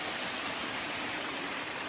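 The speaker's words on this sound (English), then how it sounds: "Lovely waterfall in Maine." A waterfall on a Maine trail roars as a steady, even broadband rush, moderately distant and uninterrupted, with no voices over it.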